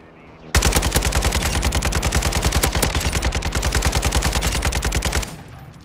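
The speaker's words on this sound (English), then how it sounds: "They're shooting up." Rapid automatic gunfire from the Call of Duty DMZ video game rattles loud and close in one sustained barrage of dense, quick shots lasting about five seconds before cutting off.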